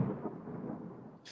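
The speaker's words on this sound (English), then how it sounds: "there is a storm coming" Thunder from an approaching storm at an outdoor cookout, a low, faint rolling rumble that fades out within a second or so.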